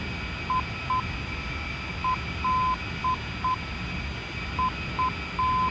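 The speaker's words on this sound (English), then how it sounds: "That's the ILS ident you can hear." ILS ident tone in the DCS flight simulator video game: short steady beeps in a repeating Morse-like pattern of dots and longer dashes, heard clearly over a constant cockpit hum.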